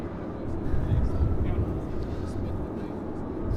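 An airliner takes off from runway 25 Left at LAX, a steady, heavy low rumble that swells slightly and holds throughout, with people chatting over it.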